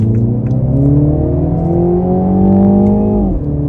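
A 2023 Mini Cooper S accelerates hard in second gear, its engine note climbing steadily and loudly from inside the car for a few seconds before easing off near the end.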